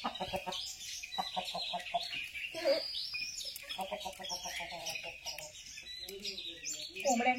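Chickens in a Konkan village cluck steadily in rapid repeated bursts close by, mixed with higher chirps, and a voice speaks faintly underneath.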